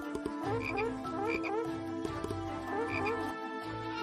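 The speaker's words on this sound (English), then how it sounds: "Then he filled the Egyptian houses with frogs." Frogs croak in a dense chorus, rhythmic repeated calls layered under a musical background with some faint buzzing insect-like tones.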